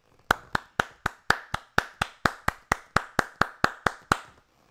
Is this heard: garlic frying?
no